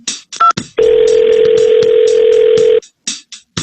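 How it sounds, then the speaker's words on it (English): A telephone line plays a long steady tone between short bursts of dialing beeps as a phone call is placed, loud and close, with no talking. "Making the phone call."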